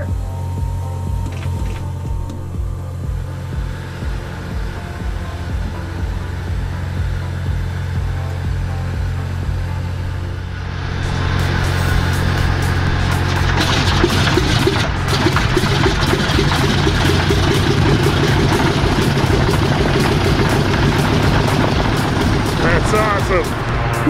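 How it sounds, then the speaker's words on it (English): An aircraft engine makes its first run after restoration. Quiet mechanical ticking and rattling come first, then the engine catches and roars up into a loud, sustained broadband drone that continues to the end. "I've got a GoPro in here to watch the first engine run"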